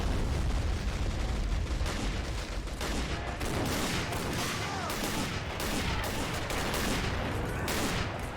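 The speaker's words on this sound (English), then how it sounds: "we've got another machine gun over here" Dense, continuous machine gun fire and battlefield gunshots in the World War II strategy game Men of War, a loud, unbroken barrage with no pauses across the whole stretch.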